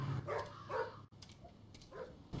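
A dog barks and yips in the horror escape game Metel, a few short muffled calls in a dim, echoing game ambience, fairly quiet.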